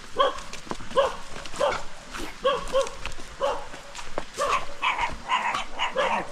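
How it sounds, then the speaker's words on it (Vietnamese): Several dogs at a rural Vietnamese house bark repeatedly in quick irregular bursts, fairly close and loud, with some yips mixed in. "Ôi, đây có chó đáng yêu đấy."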